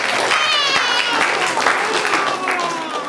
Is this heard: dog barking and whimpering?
no